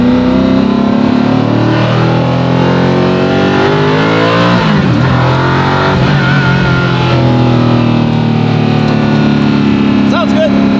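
A hypercar's engine revs hard at partial throttle, a loud layered drone that rises and falls steadily throughout, with people talking over it.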